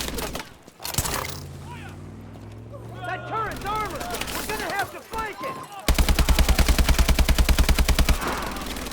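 Rapid automatic gunfire in Call of Duty Advanced Warfare bursts in loudly near the end as a fast, regular stream of shots, following a stretch of talking voices.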